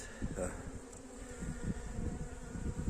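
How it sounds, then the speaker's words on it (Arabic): A honeybee swarm clustered around a foam box used as a hive substitute gives a steady close buzzing drone throughout, with no talk over it. "لما لقيت النحل متجمع هنا في الحتة دي اهوت"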